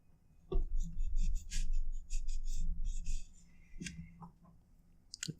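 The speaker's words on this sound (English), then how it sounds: "just cut off this last bit of excess paracord. So I'm just going to slice that off here" A blade slices through excess paracord on a fidget spinner toy, making close scraping and rasping strokes that run for a few seconds and then end in a couple of small clicks.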